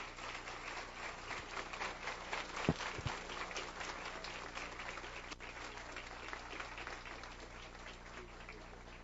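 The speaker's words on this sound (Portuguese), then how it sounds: "Vamos receber com um aplauso de boas-vindas" An audience at a Café Filosófico lecture event in Brazil applauds to welcome a guest speaker, with sustained, moderately distant clapping across the hall.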